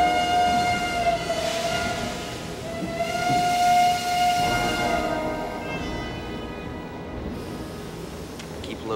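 Train running in a game, a steady rolling rumble of rail cars with a long sustained horn or whistle tone sounding over it, loudest early, then easing off.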